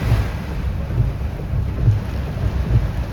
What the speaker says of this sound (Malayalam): മഴയുടെ ശക്തി മനസ്സിലാവുണ്ടാവും അല്ലേ